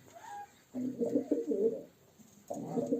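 High-flying pigeons coo in two short, close bursts of low throaty calls separated by a brief pause, heard alone without talk.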